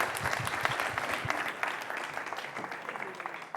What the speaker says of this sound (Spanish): Qué bien, Garbiñe, un aplauso para Nada